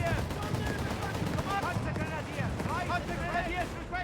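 Rapid bursts of MG-34 machine gun fire crackle through a Company of Heroes 3 battle between Afrika Korps and British forces, mixed with other gunfire and explosions under continuous commentary.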